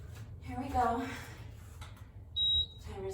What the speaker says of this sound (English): Timer's going.